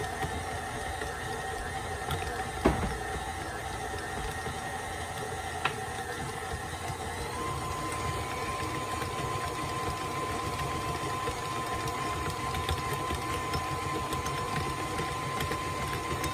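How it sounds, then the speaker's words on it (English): Stand mixer with a dough hook kneading Christmas cookie dough, giving a steady, continuous motor whir with a faint rhythmic churn throughout. A couple of brief clicks stand out, and no one speaks. "now we're going to let the dough hook mix it together, and it'll form a ball"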